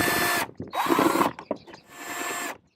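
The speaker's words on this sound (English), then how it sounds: "We're going to remove those with our drill and our Phillips head." A power drill with a Phillips bit whirs in three bursts with short pauses, close by, with clicking between runs, removing screws from a Genesis Coupe fog light bezel.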